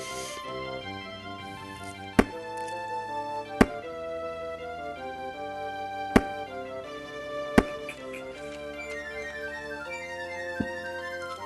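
Video game battle from a student-made wizard strategy game, with a steady musical score throughout and several sharp impact hits punctuating it as minions fight and the wizard dies.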